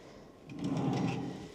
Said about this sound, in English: We then also have some drawers.